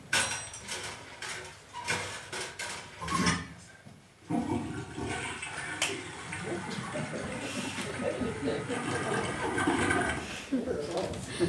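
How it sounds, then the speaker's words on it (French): A toilet is flushed during a stage performance, the rushing gurgle of water building and running on for several seconds at close range, with voices talking over it. "quel est le con qui a tiré la chasse d'eau"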